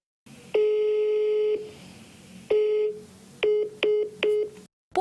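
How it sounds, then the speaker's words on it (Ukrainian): A telephone call rings out unanswered: two long ringback tones with pauses, then several short repeated beeps, ending abruptly, no voices. "Ми писали у різних соцмережах пані Фесун і навіть телефонували"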